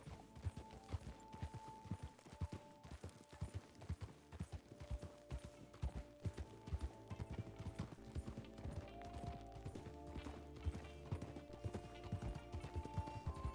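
In the RedM roleplay game, a horse's hooves canter in a rapid, irregular clip-clop rhythm, moderately close, with faint tack and mechanism creaks layered underneath.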